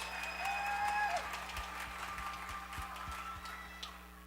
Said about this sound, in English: Worthy of the applause.